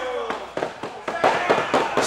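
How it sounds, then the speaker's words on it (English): Firecrackers crackle and pop in rapid irregular bursts inside a wrestling arena, loud and close, with a commentator talking over them. "I can literally smell those firecrackers."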